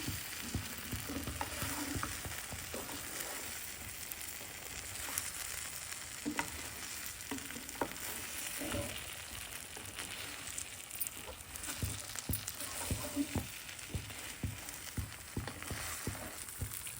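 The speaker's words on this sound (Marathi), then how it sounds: "तो फिरवतो आपण चांगला भाजलं जाईल सगळ्या बाजूने" Garlic masala pav being turned and toasted in a pan, a steady faint sizzle of frying with occasional soft scrapes and taps from the turning, continuous and close.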